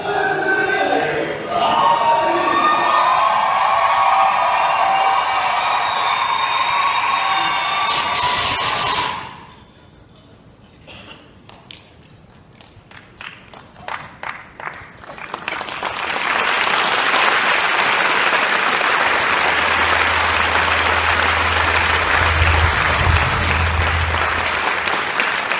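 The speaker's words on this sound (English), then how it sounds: "you are applauding his courage and satire" Loud audience applause and cheering at a press freedom award ceremony honoring Bassem Youssef, first with a voice and high tones over it, then a quieter gap of scattered claps before dense, sustained clapping swells back to full strength.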